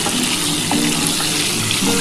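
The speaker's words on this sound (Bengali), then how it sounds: "বন্ধুরা আমি অল্প একটুখানি নুন দিয়ে দিলাম, আর অল্প একটু হলুদ দিলাম। দিয়ে এটা একটু ভেজে নিই।" Pieces frying in a pan with salt and turmeric for a mutton, potato and papaya curry, a loud, dense, continuous sizzle close up, with no voices.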